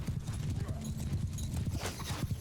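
Horse hooves clopping in the medieval battle game Mount & Blade II: Bannerlord, a dense steady rhythm of many hoofbeats with battle noise throughout, and someone talking over it.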